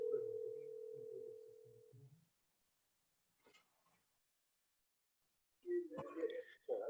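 A steady telephone dial tone sounds during a call back to a remote participant in a tribunal hearing. It holds for about two seconds over faint murmuring, then gives way to near silence and later to close talking.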